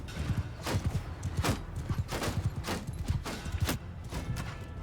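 Horse hooves clip-clopping on a battlefield in Mount & Blade II: Bannerlord, a steady rhythmic trot of several mounts, moderately close and continuous with no speech.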